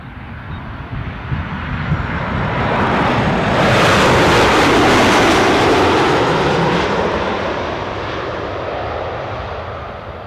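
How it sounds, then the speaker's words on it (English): A Boeing 737 jet engine spools up at Newcastle Airport, a loud broad roar swelling to a peak midway and then easing slightly, heard outdoors with wind rushing across the microphone. "You can probably hear the sound of the engine picking up."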